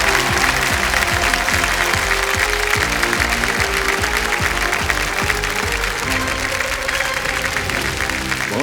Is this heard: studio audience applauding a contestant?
yes